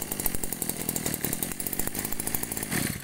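Used Japanese grass cutter with a small two-stroke engine runs after a pull start, giving a loud, close, buzzing drone with rapid firing pulses throughout the short stretch, with no voices over it.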